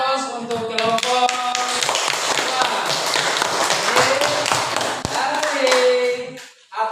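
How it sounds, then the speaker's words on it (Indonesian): Classmates in a junior high school classroom at SMPN 38 Buton give a discussion group a round of applause, a dense burst of hand clapping lasting a few seconds. A teacher speaks before and after it. "kasih aplaus untuk kelompok"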